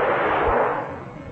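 One loud gunshot bursts out at once in a horror radio drama, its booming rumble fading over about a second with no voices over it.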